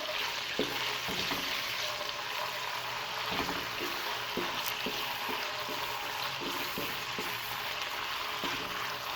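Chicken pieces fry in a hot pan while being stirred, a steady bright sizzle running throughout with soft scraping and tapping of the spoon against the pan at irregular intervals.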